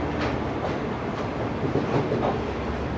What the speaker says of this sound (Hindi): दोस्तों रात के 1 बज रहे हैं पूरे और ट्रेन हैदराबाद जंक्शन से रवाना हो गई है।